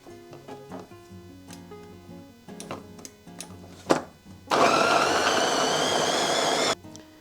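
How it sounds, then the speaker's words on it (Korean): A blender grinds kimchi seasoning of chili flakes, anchovy fish sauce and tuna extract, starting as a loud, steady whir of about two seconds after a run of light kitchen taps and clunks, then cutting off abruptly. "집에 믹서기가 있는 분들은 이렇게 갈아주시면 편합니다."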